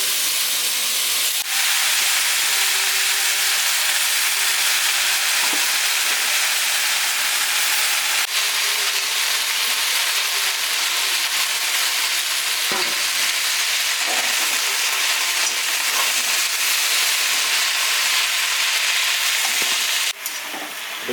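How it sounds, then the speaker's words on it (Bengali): Fresh winter mustard greens with turmeric frying in a pan: a loud, continuous, steamy sizzling hiss that runs unbroken throughout, with occasional faint knocks of stirring. "দিয়ে দেবো হলুদ, এরপরে শাকটা দিয়ে দিচ্ছি।"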